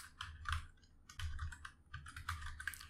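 Keys clatter in quick irregular bursts as someone types text into a field on a computer keyboard, fairly faint and close, with short pauses between runs and no talking.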